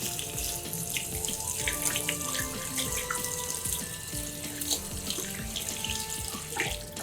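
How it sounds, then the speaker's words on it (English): Warm water runs from a tap into a sink as hands are rinsed beneath it, a steady, close splashing flow with small drips and gurgles and no voices. "Rinse your hands well with warm water."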